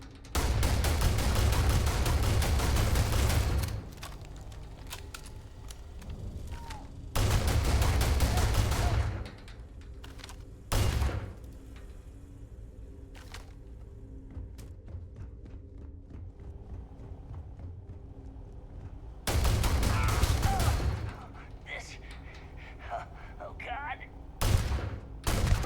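An EM gun in the space game Starfield fires in several loud, sustained volleys, separated by quieter gaps filled with faint background game ambience.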